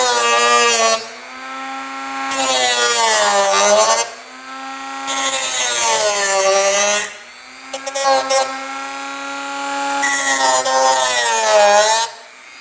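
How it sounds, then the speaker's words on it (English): A Dremel rotary tool cuts plastic staples on a UTV fender in bursts of high, whining grinding that swoops in pitch. Each cut lasts a couple of seconds, with short pauses between cuts, and the sound is loud and close. "Take the speed just a little bit higher on the Dremel tool."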